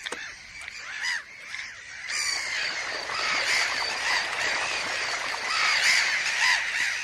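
A gull screams at an intruder on the salty puszta grassland, harsh repeated squawking calls, sparse at first and then a loud, nearly continuous chorus of shrieks close by.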